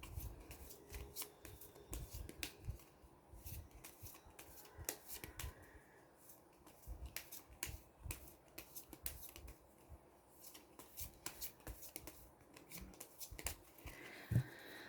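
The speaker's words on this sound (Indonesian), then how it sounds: "saya kocok kartu" Tarot cards being shuffled by hand, a steady run of soft riffling and slapping card sounds with irregular rhythm, fairly close and quiet, continuing throughout without talk.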